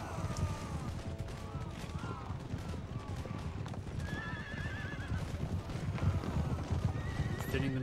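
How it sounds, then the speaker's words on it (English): Cavalry horses charging across an Empire: Total War battlefield, with loud continuous hoofbeats, repeated neighs and whinnies, and scattered musket gunfire behind. "Oh, enemy cavalry's pushing forward."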